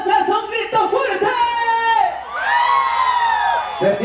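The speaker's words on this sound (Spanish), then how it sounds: "A la una, a las dos, a las tres, un grito fuerte." A crowd at a live banda music event yells loudly on cue, a burst of overlapping shouts and whoops followed by a sustained cheer, close and loud.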